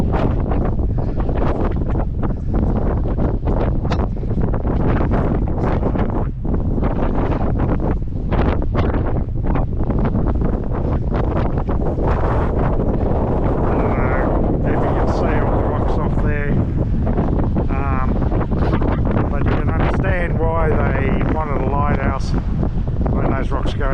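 Strong coastal wind buffets the microphone continuously at Hamelin Bay, a loud, rough roar with gusty rumbling throughout; a voice speaks intermittently underneath.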